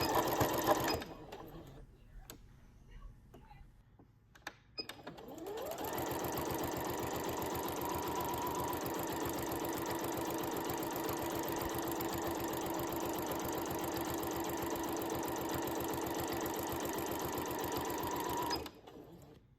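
A sewing machine stitches binding onto a quilt, running steadily and close for about fourteen seconds after a few brief starts, then stopping; no talking.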